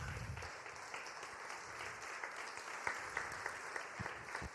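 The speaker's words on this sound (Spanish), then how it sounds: "Dale un aplauso al Señor" Church congregation applauding after a baptism sermon, a steady wash of many hands clapping at moderate distance with no talk over it.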